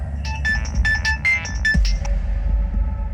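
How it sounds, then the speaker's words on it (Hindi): A phone rings with a bright, repeating electronic tone in short melodic bursts, played over a low droning background for about three seconds. "किसका फोन है?"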